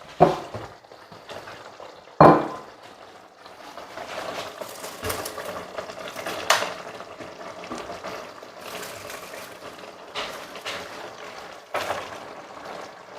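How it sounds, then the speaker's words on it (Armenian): Chopped cabbage is poured into a pot of boiling borscht in a home kitchen. Soft watery splashes and trickling continue, with a few sharper knocks and thuds, all fairly quiet and close, with no talking. "հերթը հասավ, որ ես կաղամբը լցնեմ սրա մեջ"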